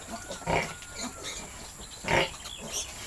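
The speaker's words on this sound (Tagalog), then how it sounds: "sobrang napakalakas po nilang dumede" Newborn piglets, four days old, suckle noisily from a sow on a pig farm, giving a couple of louder grunting, squealing bursts over a steady background of snuffling and shuffling, fairly close.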